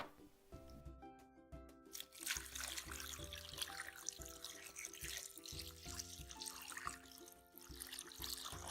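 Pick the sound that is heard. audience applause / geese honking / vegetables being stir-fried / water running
water running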